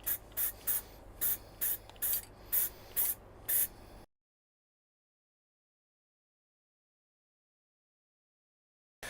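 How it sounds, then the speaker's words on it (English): Aerosol spray paint can hissing out a first coat onto a motorcycle centre stand, nine short even bursts in steady rhythm, close and clear, followed by silence. "we are now spraying the first coat"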